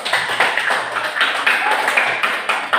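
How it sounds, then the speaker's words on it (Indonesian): A class claps for a pupil, several hands beating in a brisk, fairly loud burst that keeps up steadily. "Tepuk tangan untuk Teus."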